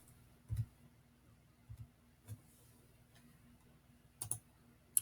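F2 key pressed on a computer keyboard, a handful of faint, sparse clicks and taps spread across a quiet room, no voices.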